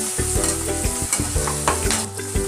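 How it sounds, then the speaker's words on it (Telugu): Green beans are stirred in a hot pan with onion and green chilli, a busy, close sizzle broken by quick, repeated spoon scrapes in an uneven rhythm, with no voices. "ఆ బీన్స్ దీనిలో వేసుకున్నాం. ఇలా తిప్పుకోవాలి."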